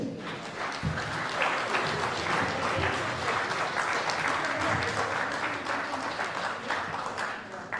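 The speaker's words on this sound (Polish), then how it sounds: "Wielkie brawa" Sustained applause from a crowd, steady hand clapping filling the whole stretch, with a few scattered voices underneath.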